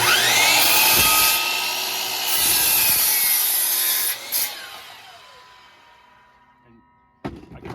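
A hand saw cuts through a wooden stair railing in rapid rasping strokes, loud and close, fading as the cut finishes, with a brief knock of wood near the end.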